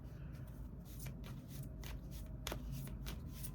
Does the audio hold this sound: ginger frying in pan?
no